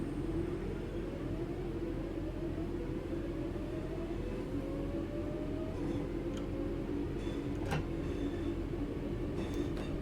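A train in Train Sim World 3 pulls away on the Glossop line, its low engine rumble steady and close, with rising motor tones, a few clanks and squeals over the top.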